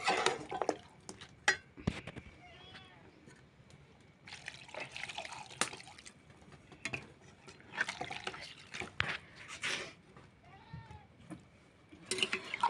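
Lukewarm water is poured into a pan of frying chicken on a wood-fired clay stove, giving intermittent splashing, trickling bursts at close range.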